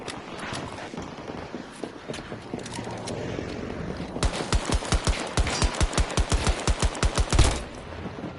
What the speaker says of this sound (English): why is my pistol shooting so fucking slow?